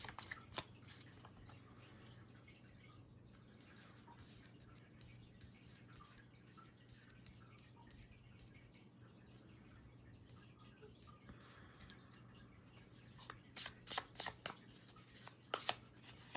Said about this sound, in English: I'm just tuning into you as I shuffle these cards